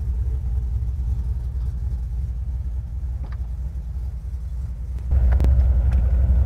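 A loaded truck drives down a street, a steady low engine rumble and road hum that grows louder near the end as it accelerates, with no talk over it.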